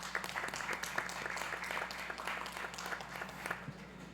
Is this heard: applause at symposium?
yes